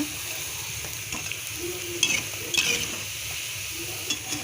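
Cabbage bondas deep-fry in hot oil, making a continuous close bubbling sizzle broken by a few sharp metallic clinks of a utensil.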